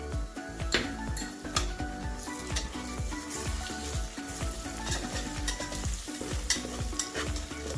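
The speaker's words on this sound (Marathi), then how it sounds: "छानपैकी अद्रक लसणाची पेस्ट परतून घ्यायची आपल्याला यामध्ये।" Ginger garlic paste sautés with browned onions in a pan for pav bhaji, a loud, busy sizzle broken by repeated scraping stirs of a spoon against the metal.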